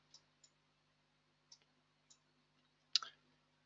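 A few faint, sparse computer mouse clicks at irregular intervals in a quiet room, the last one slightly louder.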